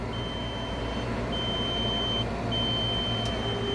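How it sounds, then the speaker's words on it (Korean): Warning alarm on a motorized electric bed sounding as the bed rises, a steady high beep repeating in long tones with short gaps over a low motor hum, close and loud, no talk. "이렇게 되면 이렇게 경보를 또 올리면서 위로 올라갑니다."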